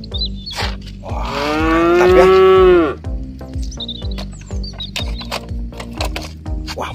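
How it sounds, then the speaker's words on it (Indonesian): A single long, loud mother cow's moo rises and falls near the microphone, set against a steady rhythmic mechanical rumble and scattered clicks. "Ini induk sapi"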